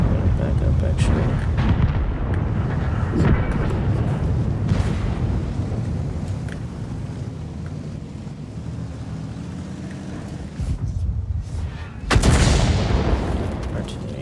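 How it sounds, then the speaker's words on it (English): Artillery fire in the tank battle game World of Tanks: dense, rumbling booms and blasts roll continuously, with a sharper burst near the end and someone talking over it. "Artillery already trying to shoot at me."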